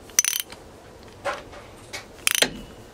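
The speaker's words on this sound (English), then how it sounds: "It's just a 21 mil socket. Loosen that off." A 21 mm socket works loose a bolt on a Toyota Coaster clutch hydraulic line, giving several sharp metallic ratchet clicks and clacks in short close bursts.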